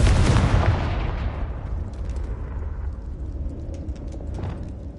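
Bombarda and Confringo explosion spells in Hogwarts Legacy go off with a loud booming blast, then a rumbling decay that fades over several seconds, with no talk over it.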